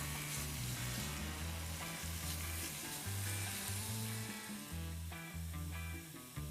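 Paper-thin slices of A5 Wagyu beef frying in a pan give a loud, close, constant sizzle, with a low mechanical hum and intermittent rattles running underneath.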